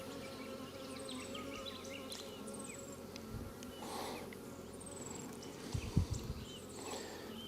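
Honey bees buzz in an open hive during an inspection, a faint, continuous hum with a few individual insects passing near and some soft knocks around the sixth second.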